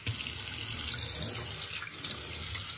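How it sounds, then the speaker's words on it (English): Tap water running hard down a sink drain pipe that was just cleared with air pressure, a loud, steady, close rushing hiss that holds for the whole stretch with no one talking. "All right, turn some water on."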